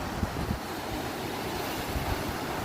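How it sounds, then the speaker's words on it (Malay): Strong waves rush onto the shore of Pulau Terumbu, an island, in the dark before dawn, with wind from a southern storm. The surf makes a loud, continuous roar with low rumbling surges and wind buffeting the microphone throughout. "anda boleh dengar bunyi desiran ombak yang begitu deras saya rasa"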